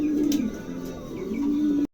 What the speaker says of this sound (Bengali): চমৎকার একটা কবুতর।